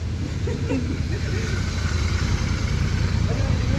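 A motorcycle engine rumbles steadily at idle nearby, with a low continuous drone and faint background voices.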